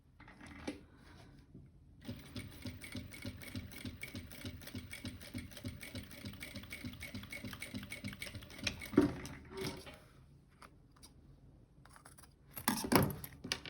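A sewing machine stitches along the edge of a fabric pencil case in a fast, even run of clattering needle strokes, pausing briefly before starting up again.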